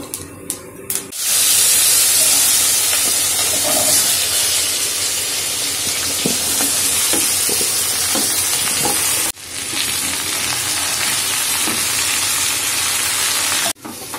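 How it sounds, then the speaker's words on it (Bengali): Potatoes, aubergine and beans frying in a pan, a steady loud sizzle and hiss with scraping stirs and clinks, briefly interrupted twice by quick cuts. "আমার পুঁই-মিটুলির চচ্চড়ির আলু, বেগুন, শিম ভাজা হচ্ছে"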